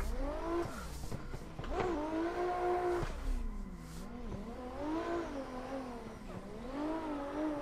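Missile race car engines rev and whine continuously in a racing game, their pitch rising and falling as cars accelerate and shift, loud and close with no speech.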